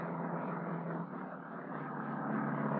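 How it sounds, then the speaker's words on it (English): An airplane in a spiral dive, nose down with bank and airspeed increasing, gives a steady, full engine drone that swells slightly, loud and continuous with no voices. "The airplane turns."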